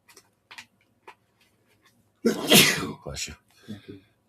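A single loud, explosive human sneeze bursts out after a few faint ticks and clicks, followed by a short breathy tail and brief murmuring.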